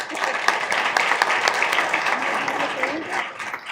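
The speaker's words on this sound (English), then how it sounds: "Let's give them a round of applause." Audience applause for firefighters from Tucson and Pasadena at a city council meeting, steady dense clapping with scattered louder claps sustained throughout, mixed with crowd murmur.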